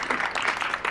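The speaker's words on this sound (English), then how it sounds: "let's give him a big round of applause" Audience at a Memorial Day veterans recognition program applauding a Navy veteran, a Third Class Petty Officer: a short burst of dense, continuous clapping from a crowd at moderate loudness.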